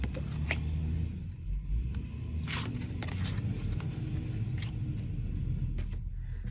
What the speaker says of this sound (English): I apologize for the sound of the garbage trucks here